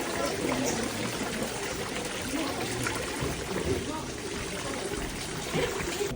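Water trickling and pouring from a fountain on Mount Fuji in Japan, a steady close splashing flow with people talking over it.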